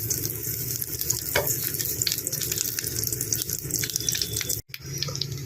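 Butter sizzles in a hot pan, a dense steady crackling hiss with small pops throughout and a momentary cut near the end.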